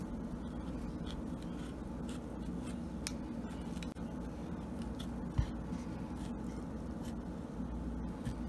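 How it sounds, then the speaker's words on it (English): An avocado being cut with a knife for guacamole, a steady soft scraping and slicing texture running throughout at close range, with one brief knock near the middle. "So let's first cut our avocado."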